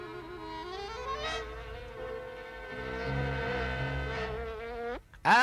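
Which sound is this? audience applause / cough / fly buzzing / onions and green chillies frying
fly buzzing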